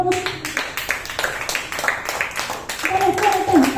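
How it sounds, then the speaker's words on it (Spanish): A church congregation clapping hands during a worship service, a dense, continuous, fairly loud patter of many palms under a preacher's voice and music. "Den fuertes palmas a nuestro Rey"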